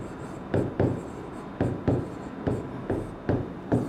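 A pen or pencil writing by hand on paper, close and clear, in a run of quick scratchy strokes with short pauses every half second or so.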